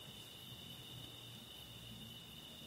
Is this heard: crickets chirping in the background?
yes